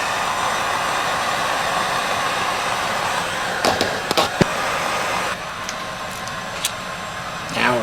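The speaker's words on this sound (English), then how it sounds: "we'll try the heat gun here" A heat gun blows steadily on the engine of a first-generation Suzuki Hayabusa, a continuous broadband roar close by, broken by a few sharp clicks and knocks from work on the bike.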